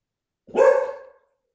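A single loud dog bark, close and sharp, lasting under a second before fading out, with silence around it.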